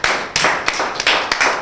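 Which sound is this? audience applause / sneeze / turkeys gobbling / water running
audience applause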